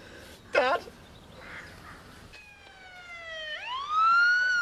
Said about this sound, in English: But the ambulance is here.